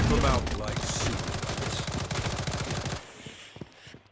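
Rapid automatic gunfire from a Blood Strike shooter match, dense bursts of shots for about three seconds, then a few scattered single shots as the firing trails off.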